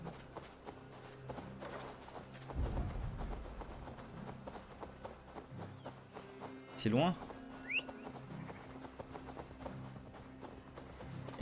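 Horse hooves clatter at a run in a video game, a busy rhythmic clip-clop running through the whole stretch with a bird call mixed in, while people talk over the top.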